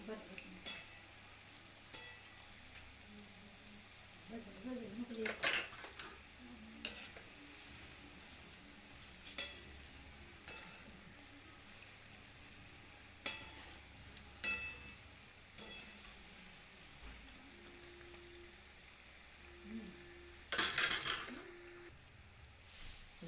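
Wheat flour kapnya strips frying in hot oil with a soft, steady sizzle, broken by occasional stirring scrapes and light clinks of a utensil against the pan.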